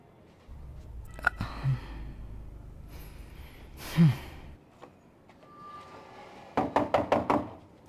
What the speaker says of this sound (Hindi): मैं कब से दरवाजा खटखटा रहा था